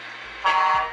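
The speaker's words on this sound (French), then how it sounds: "Vous entendez le klaxon," Single short electronic horn toot from a Tamiya MFC-03 sound unit fitted in an RC Grand Hauler truck, a bright buzzy honk lasting about half a second after a soft background hum.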